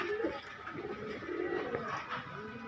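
Pigeons, a breeding pair of good-quality birds offered for sale, coo softly in a low, rolling burble lasting a couple of seconds, close by.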